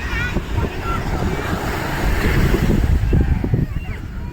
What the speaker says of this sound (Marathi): आणि बघू शकता हिंदू महासागर आपला.